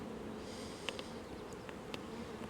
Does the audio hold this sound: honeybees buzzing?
yes